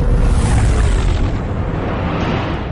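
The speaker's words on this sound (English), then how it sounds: "Enemy is firing. Turbo lasers, missiles, and what looks like transport pods." Enemy Franta-class warship firing turbolasers and missiles during a space battle in Star Wars: The Old Republic, heard as a dense, loud wall of booming blasts and rumble that eases slightly toward the end, with no talk.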